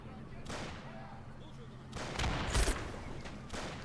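Grenades go off in a battle in a real-time strategy video game, several dull booms and bursts over about four seconds amid background combat noise.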